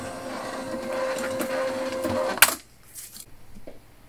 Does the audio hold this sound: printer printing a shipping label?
yes